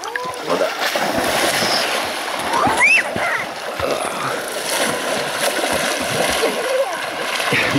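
Water splashes in a Siberian lake in the taiga, with irregular close splashes and rippling as people wade and swim. A shout rings out at one point, and people talk in the background.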